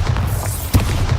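A Bombarda exploding spell from the video game Hogwarts Legacy lands as a single short, loud, deep boom over a dense, rumbling game soundscape, with no talking.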